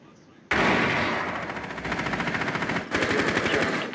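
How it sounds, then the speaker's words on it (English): Rapid automatic gunfire in Rainbow Six Siege, shots fired through a wall during a theme park team deathmatch, loud and continuous with a brief break before a second dense burst. "You can wallbang her, Lepak."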